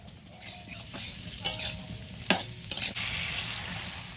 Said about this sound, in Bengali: একটু লবণ হলুদ দিয়ে আলুটা ভেজে নিচ্ছি আগে